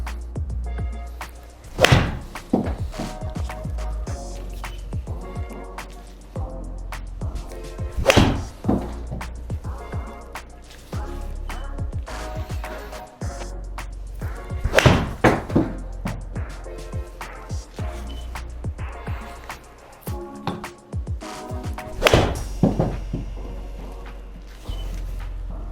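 Golf irons for mid to low handicap players strike balls in a series of crisp, loud impacts, about a dozen spaced several seconds apart, with quiet outdoor ambience between shots and no talking.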